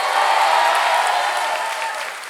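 An audience at a long-form improv show applauds loudly and steadily, a dense wash of clapping from a full crowd that fades slightly toward the end.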